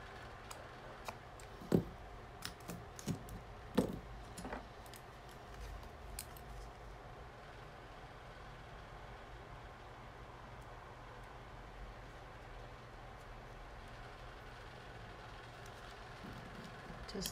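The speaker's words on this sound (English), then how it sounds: "Let me trim it just a little bit." Small scissors trim nail transfer foil for a nail design, a handful of quick, close snips clustered in the first few seconds, then quiet room tone.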